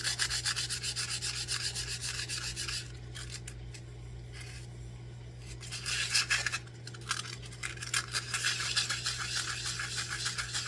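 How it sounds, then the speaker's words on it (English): Sandpaper rubs back and forth over a cured ecopour resin piece in quick, steady, close strokes, a rough scratchy hiss that keeps going throughout with a couple of brief pauses, over a constant low electrical hum. "And then I'm just gonna sand this a little bit."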